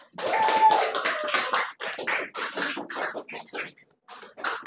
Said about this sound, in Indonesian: Tepuk tangan untuk kelompok satu